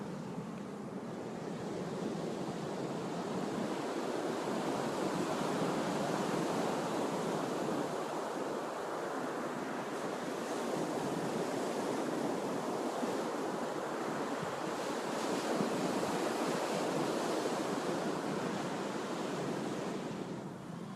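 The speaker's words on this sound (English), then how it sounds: "the ocean's a beautiful thing" Steady ocean surf on the Gulf Coast, a continuous broad wash of breaking waves mixed with wind buffeting the microphone, unbroken and fairly loud throughout with no voices.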